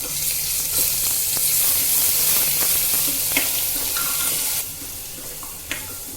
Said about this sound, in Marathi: मिरची आणि लसणाचा ठेचा छान परतून घ्यायचं आहे